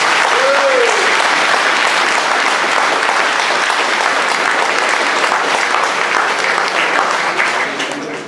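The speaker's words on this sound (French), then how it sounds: "grâce au concours de Mme Catherine Copon, que je vous demande d'applaudir." An audience at a French public speech breaks into loud, sustained applause that fills the space evenly and only begins to fade at the very end.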